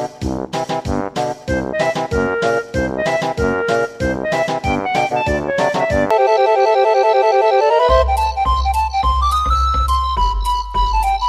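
Banjo-Kazooie video game music plays alone, a remix of the main theme: a bouncy run of short plucked, staccato notes, then sustained chords, then a melody over a deep bass, bright and close throughout.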